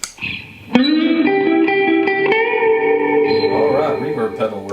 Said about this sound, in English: Let's hear it with reverb.